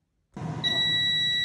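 An air fryer oven gives a steady electronic beep tone when cooking is done, starting abruptly after a moment of silence and holding on, close and moderately loud, over a low hum.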